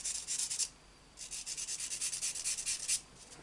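A sanding sponge rubbed over a model tiger tank build, one short scrub, a pause, then about a dozen quick back-and-forth strokes, close and fairly quiet.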